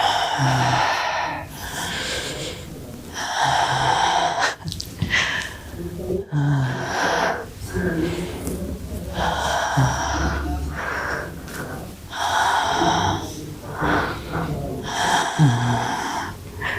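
Slow, deliberate breaths during a guided relaxation exercise, with audible exhalations and soft gasping inhales repeating in a steady rhythm, close and moderately loud.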